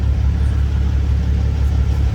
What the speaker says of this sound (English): It's a box truck.